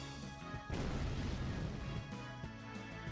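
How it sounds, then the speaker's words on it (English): Fire spell cast during a battle in Final Fantasy X, a sudden loud whooshing burst with crackling impact that swells after a short musical lead-in and lingers before fading back into the battle music. "Now we're just going to have these two use fire."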